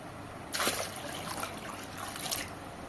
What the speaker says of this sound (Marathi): मी याच्यामध्ये जरा अजून पाणी घालते